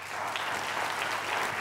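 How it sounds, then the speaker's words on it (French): Audience at a choir concert clapping steadily, a dense, even wash of applause from a full hall with no voices over it. "Vous pouvez les applaudir plus fort?"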